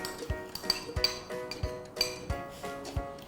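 A metal spoon clinks repeatedly against a glass jar while Epsom salt is added and mixed, sharp close taps in an uneven rhythm with no talk.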